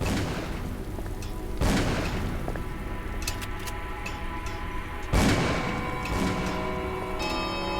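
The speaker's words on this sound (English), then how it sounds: "Shooting!" Gunfire in Call of Cthulhu, two heavy booming shots a few seconds apart over a busy background of ticking and clinking game sounds.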